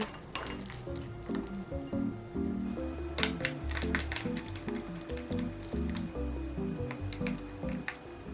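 Slime made from squishies is worked together with activator, giving steady rhythmic wet squelches and squishes, close and fairly soft, with no voices.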